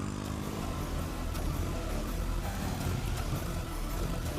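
A motorbike engine rumbles continuously as the bike pulls away, a dense low drone mixed with broadband noise at steady loudness, with no voices over it.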